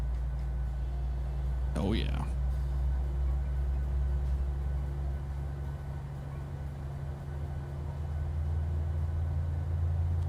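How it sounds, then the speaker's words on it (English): A Southwest airliner's engines in Microsoft Flight Simulator, heard from the wing view on an Atlanta to Jackson, Mississippi flight, give a steady deep drone throughout, with someone briefly speaking over it. "Listen to this engine rumble."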